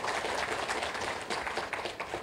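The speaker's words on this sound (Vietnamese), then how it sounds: "Và một tràng vỗ tay thật lớn để cảm ơn tất cả các anh chị đã đồng hành cùng với Mainland." Audience applause at a company's annual shareholders' meeting, a dense, even patter of many hands clapping at a fairly soft level, continuing steadily for a couple of seconds.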